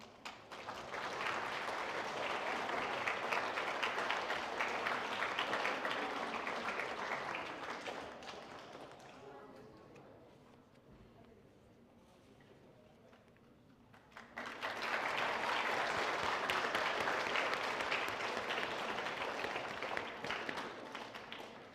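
Applause for veterans at a school veterans ceremony comes in two waves: a long run of crowd clapping that fades to a quiet lull, then swells again and holds to the end.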